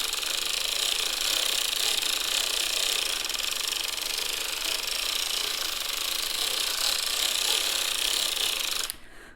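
A circular sock knitting machine cranked steadily around: a continuous, dense mechanical ratcheting clatter of needles and gears at an even level, stopping abruptly near the end.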